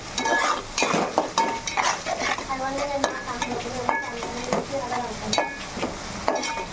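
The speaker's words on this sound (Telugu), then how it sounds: "నూనె వేసి ఉల్లిపాయలను పచ్చిమిర్చి వేసుకున్నాం." Onions and green chillies frying in hot oil in a home kitchen, a steady loud sizzle with a spoon scraping and stirring against the pan throughout.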